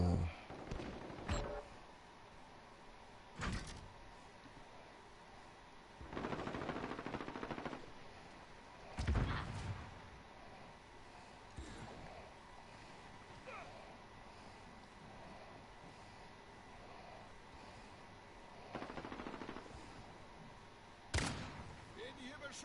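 Gunfire from the Call of Duty Modern Warfare video game comes in several separate loud bursts and single sharp shots spread across a quieter background. Players talk at times.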